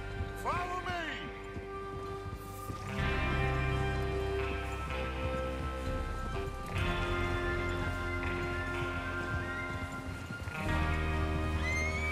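Horses whinny and neigh with clip-clopping hooves in the video game Red Dead Redemption 2, the neighs rising near the start and the hooves running steadily behind music and voices, with talk mixed in.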